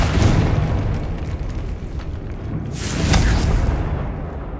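The Confringo blasting spell in Hogwarts Legacy lets off loud, booming explosions close by. A heavy burst opens, then a rumbling tail, and a second strong blast follows about three seconds later.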